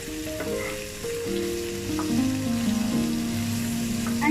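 Okra (bhindi) frying with turmeric, Kashmiri red chili and salt in a pan, a steady close sizzle with a few soft stirring scrapes, no talking.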